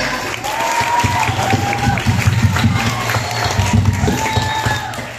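Applause from an audience at a school event for a group of elementary pupils, a steady crowd roar with clapping and some cheering and children's shouts, loud and sustained, with voices and a humming tone running through it.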